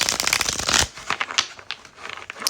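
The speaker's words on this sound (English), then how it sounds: "Let me cut the deck and then I'm going to shuffle it." A deck of tarot cards is shuffled in quick riffling bursts, loud and close at first, then breaking into scattered lighter flicks and taps.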